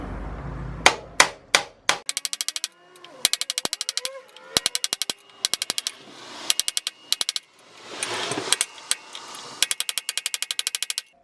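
A Motion Pro shock spanner punch struck hard and repeatedly with a hammer, loud sharp metallic blows that come in rapid bursts of ringing strikes separated by short pauses, close and harsh.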